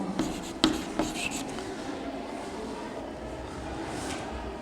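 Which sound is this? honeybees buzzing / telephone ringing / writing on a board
writing on a board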